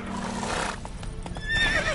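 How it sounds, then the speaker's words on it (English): A horse in the Witcher 3 video game gives a loud, close whinny as it spooks, with hoof clip-clops and other game sounds mixed in behind it. "Spooking my horse."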